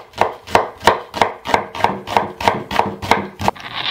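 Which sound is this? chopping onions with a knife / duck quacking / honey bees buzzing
chopping onions with a knife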